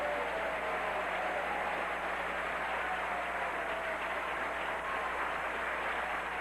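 A game show studio audience gives a sustained, loud round of applause for the all-time champion, a steady dense wash of clapping that holds evenly throughout with no voices on top.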